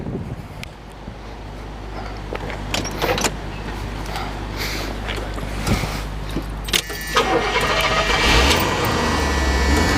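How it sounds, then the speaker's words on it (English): A 1976 Cadillac Eldorado convertible's engine is cranked and fired up with a new battery, giving a loud, close rumble with clicks and jangling keys before a steady idle and rising revs toward the end, with no talking. "I'll go ahead and fire it up for you."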